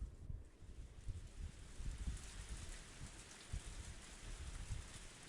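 A steady downpour of rain pours in a visual novel sound effect from Higurashi, a soft, even, continuous wash that runs alone at low volume with no voices.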